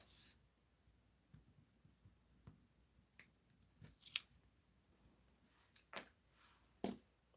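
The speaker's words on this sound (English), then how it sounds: "let's remove the paper backing." Adhesive paper backing peeled from a die-cut card piece during a Paper Pumpkin card-making kit project, giving a few short, crisp ripping and crackling bursts spaced apart against a quiet room, with no talking.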